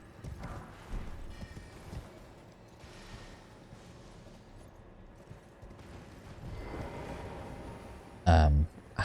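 Horse hooves galloping while riding in Elden Ring, a steady clip-clop rhythm of hoofbeats close up and fairly quiet, with a loud sharp sound near the end.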